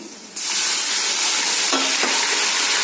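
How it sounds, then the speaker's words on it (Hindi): Ground garlic and ginger paste hits a hot pan, setting off a sudden loud, steady sizzle that carries on continuously with a brief crackling shift near the end. "और अब मैं इसके अंदर ये पिसा हुआ लहसुन अदरक जो है वो डाल दूंगी"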